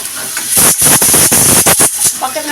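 A pressure cooker on the stove vents steam in a loud, rushing hiss that pulses in several bursts, with short gaps between the blasts, while the dish of onions and black-eyed peas simmers inside.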